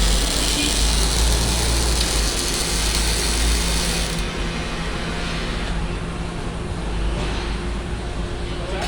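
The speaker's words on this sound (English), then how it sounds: "We got a robot welder, it looks like." Robotic welder running in a metal and race fabrication shop, a loud continuous crackling buzz mixed with steady mechanical machine hum that fills the space without a break.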